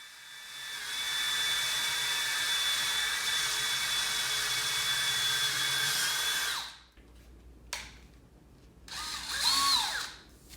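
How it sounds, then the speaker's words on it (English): A steady high-pitched power drill with a quarter-inch bit whines for several seconds, then stops, followed by a few brief rattles and a short second whir. "I'm using a 1/4 inch drill bit at this location"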